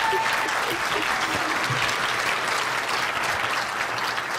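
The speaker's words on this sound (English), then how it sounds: "Let's give them a round of applause" Sustained applause from an audience at a humane-society conference, greeting SPCA members asked to stand; dense steady clapping fills the whole stretch with a few faint voices mixed in.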